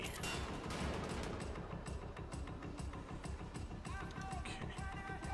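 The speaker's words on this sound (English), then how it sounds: "It's freaking pissing me off that they're using so much ammo on me." Enemy gunfire in Wolfenstein: The Old Blood, a steady stream of rapid automatic shots repeating almost without pause, loud and continuous over a rumbling background.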